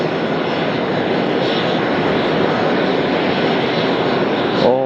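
A Boeing 767-300 jet airliner roars through its takeoff roll in windy conditions at Las Vegas, a loud, continuous, broadband engine rumble mixed with wind noise that holds steady throughout.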